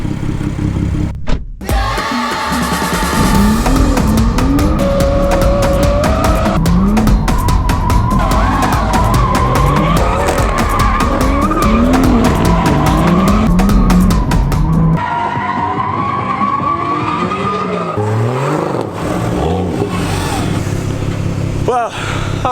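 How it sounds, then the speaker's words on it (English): A BMW M140i with a limited slip differential drifts, its tires squealing in long wavering howls over a loud, steady engine roar, with brief gaps as the car changes direction. "that's the first test of the limited slip diff, and well, it works for drifting"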